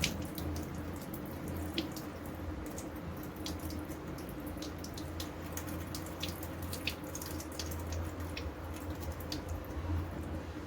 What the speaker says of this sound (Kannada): ಹಿಂಗೆ ಮಿಕ್ಸ್ ಮಾಡ್ಕೊಂಡು ತೊಳೆದ್ಬಿಟ್ಟು ಆಮೇಲೆ ಹಿಂಗೆ ನೀರು ಸುರಿಬೇಕು